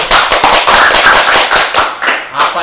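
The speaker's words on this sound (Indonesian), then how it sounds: "tepuk tangan dulu" Clapping during a student podcast recording, a few people clapping close to the microphone in loud, uneven bursts. Voices chatter briefly in between.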